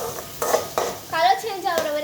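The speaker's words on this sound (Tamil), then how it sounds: "நல்லா சாப் பண்ணி வச்ச வெங்காயம் போடலாம். இப்போ நல்லா கலர் சேஞ்ச் ஆகிற வரைக்கும் நம்ம நல்லா வணக்கணும்." Chopped onions are stirred in a cooking pan, with scraping and clinking of a utensil against the pan and a light sizzle, close and moderately loud, in short repeated bursts.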